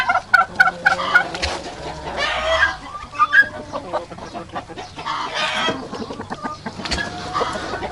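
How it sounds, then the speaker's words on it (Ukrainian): Guinea fowl on a farm near a rabbit hutch give repeated harsh, rhythmic calls at close range, layered with clucking from other poultry throughout. "Цесарка зацікавилася."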